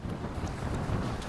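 Strong wind during Hurricane Dorian on the Florida coast at Jupiter, gusting near 50 mph, roaring as a steady, loud broadband rush of buffeting gusts against the microphone, with no voices over it.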